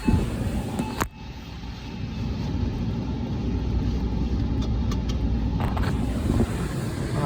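A 2004 Porsche 986 Boxster's engine rumbles steadily while the car rolls slowly, with a sharp thump near the start and faint clicks later, heard from inside the cabin.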